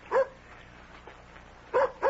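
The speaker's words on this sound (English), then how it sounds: "that's Nikki at the door with my dog" A dog barks at a door in a radio drama, two or three sharp barks with a pause between, fairly close over a quiet background.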